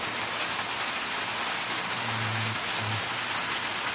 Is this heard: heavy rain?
yes